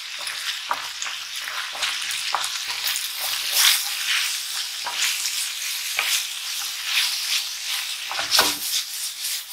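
Pork with ginger and spring onion stir-fried in a pan, a steady sizzle broken by repeated scraping, rubbing strokes of the utensil as the mixture is tossed, close and fairly loud with no talking.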